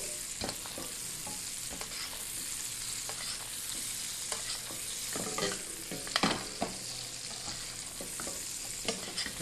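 Steak sizzles and spits in hot butter in a pan, a steady close frying hiss with brief louder pops and crackles scattered throughout, no talking.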